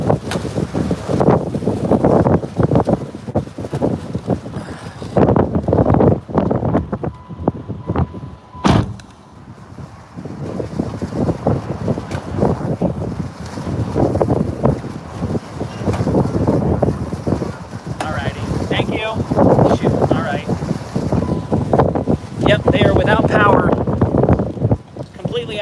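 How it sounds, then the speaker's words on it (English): Storm wind buffeting through a car's open sunroof and side window during a Panhandle storm chase, a loud, gusting rumble that surges and dips with a brief lull, with someone talking throughout. "This is the wind coming through my sunroof and through the other window."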